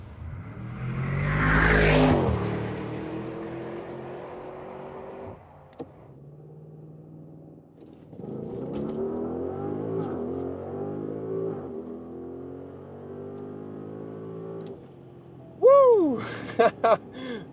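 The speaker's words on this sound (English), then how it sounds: "That is the launch control." A 2025 Audi RSQ8 Performance launches hard using launch control, its engine roaring up loudly through the gears with rising tones and a gear-change pause, heard from inside the car, followed by a few sharp rising whines at the end.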